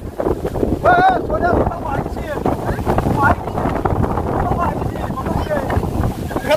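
Strong wind from a rainstorm roars and buffets the microphone continuously outdoors, with voices calling out over the gusts.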